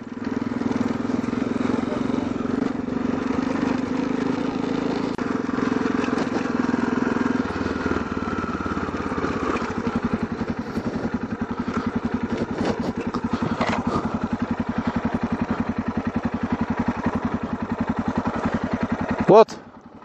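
Small motorcycles ridden in Mongolia give a steady engine drone throughout, with a buzzy, pulsing rhythm in the second half and a sharp knock near the end.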